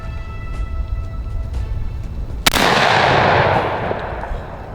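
A Blackwater Sentry 12 shotgun fires a single double-aught buckshot load, one sharp loud blast that rings out into a long decaying outdoor rumble over steady background noise.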